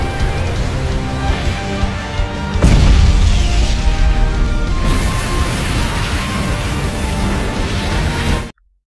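An animated fantasy explosion: a dense, continuous roaring rumble with a heavy boom partway through, sustained and loud, then cutting off abruptly at the end.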